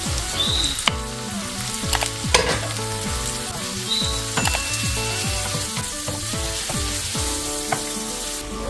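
Tomato added to a hot frying pan with onion and paprika for a prawn casserole sizzles loudly and steadily, with bursts of crackling spatter and a few utensil clinks, no talking.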